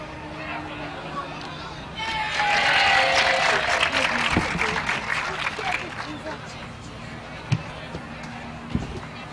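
Audience applause at the close of a stage play: a broad swell of clapping rises after about two seconds, holds strongly, then thins into scattered claps and a murmuring crowd, with a couple of sharp knocks near the end.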